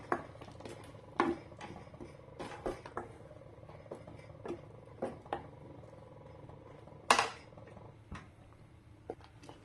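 Scattered scraping and clinking of a spoon against a pan while ground masala is stirred into a prawn gravy, irregular strokes with soft sizzling underneath, one sharper knock standing out.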